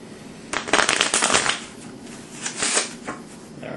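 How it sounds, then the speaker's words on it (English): A deck of playing cards riffle-shuffled up close, with a loud burst of fluttering snaps followed by a couple of quieter shorter riffles. "So I'll begin by shuffling"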